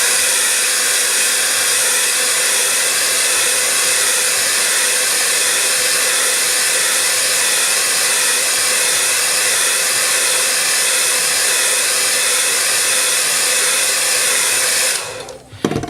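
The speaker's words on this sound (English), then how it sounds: "Then we can use the hairdryer" A loud, steady hair dryer on a hot setting blowing continuously at close range over a waxed backpack, cutting off abruptly near the end.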